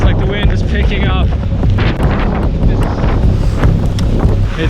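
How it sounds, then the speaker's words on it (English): Strong gusts buffet the microphone during a solo hike in bad weather in Georgia or Azerbaijan, a loud continuous roaring rumble with no break. "Feels like the wind is picking up."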